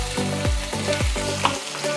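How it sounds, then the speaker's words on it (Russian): Chopped onion fries in vegetable oil in an unwashed skillet, with a steady sizzle running throughout and repeated stirring scrapes and clatters of a utensil against the pan, close and fairly loud. "Так что пусть тушится лук"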